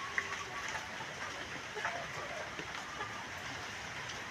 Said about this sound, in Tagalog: Bugso ang ulan.